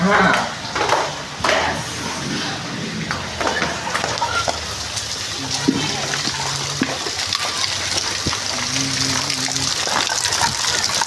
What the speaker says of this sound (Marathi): नांदेडमध्ये लई पाणी चालू आहे बॉस